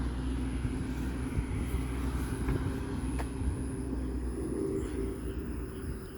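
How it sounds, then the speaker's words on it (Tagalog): An airplane flies overhead, a steady broad rumble that holds throughout at moderate distance, with faint other noises scattered over it and no voices. "Eroplano!"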